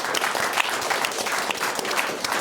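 Audience applause from a studio crowd, dense steady clapping that holds throughout at a fairly loud level, with no voices over it.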